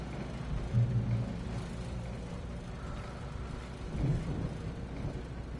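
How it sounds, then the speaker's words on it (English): A thunderstorm in the video game Alan Wake Remastered: steady rain with low rolling thunder that swells twice, heard alone without speech. "The storm raged on as the Anderson brothers walked unsteadily away from the clinic"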